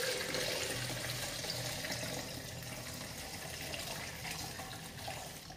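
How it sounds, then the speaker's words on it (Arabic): Water pours and splashes steadily while being strained during the making of spiced ghee, a soft, continuous trickle close by with no talking. "غادي نصفي هذا الماء ها هو غادي نشوف"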